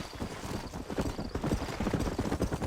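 Horse hooves clip-clopping at a steady trot in the game Red Dead Redemption, a close, rhythmic run of dull thuds repeating continuously without speech.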